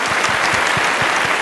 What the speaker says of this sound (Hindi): एक बार क्यों ना हम सब लोग आप सबके लिए मिलकर ताली बजा दें